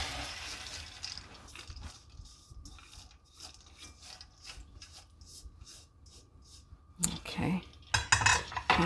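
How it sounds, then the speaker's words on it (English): Lentils poured into a cooking pot, dry patter and rattling against metal, with clinking utensil scrapes and a louder burst of rustling near the end. "the next thing I want to do is add my lentil to my pot"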